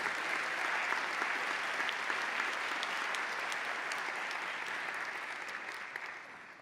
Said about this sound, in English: Let's give a round of applause to Christian.